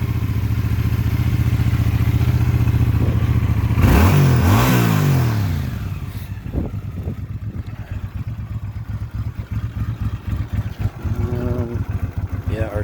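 A 1983 Honda GL650 motorcycle engine runs with the choke fully on, a steady close drone with a rev burst before settling into a lumpy, uneven idle, as someone talks over it.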